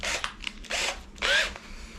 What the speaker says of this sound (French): maintenant je prends la mèche étagée.